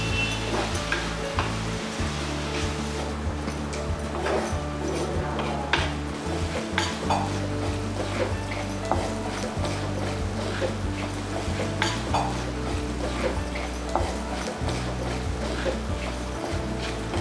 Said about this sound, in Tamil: எண்ணெயில் பாகற்காய் நல்லா வதங்கினதுக்கப்புறம் நம்ம எடுத்து வச்சுருந்த வத்தல் தூள், சீரகத்தூள், மஞ்சள் தூள் கொஞ்சம் சேர்த்து நான் நல்லா கிண்ட போகிறேன்